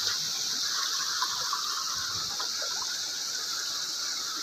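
Broadband rushing water from a stream that must be crossed on a washed-out rural path in a Nepali village, a steady continuous hiss and gush running unbroken throughout.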